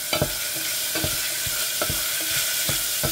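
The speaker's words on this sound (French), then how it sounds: "Je vais faire revenir légumes avec l'ail et persil." Vegetables sauté with garlic and parsley in olive oil, making a bright, even sizzle that is punctuated every second or so by the knock and scrape of stirring, with no talking.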